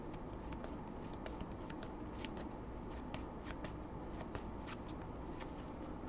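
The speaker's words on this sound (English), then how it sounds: "So we'll do the shuffle again." A deck of trading cards is shuffled for a card game, a quiet continuous riffling patter with small sharp flicks, heard alone.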